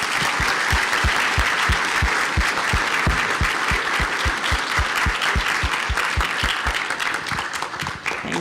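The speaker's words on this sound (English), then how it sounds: "So if we could give them all, please, a round of applause." A School of Medicine dinner audience gives sustained applause, a thick wash of many hands with a strong, regular clap pulse running throughout, close and loud, with no talking over it.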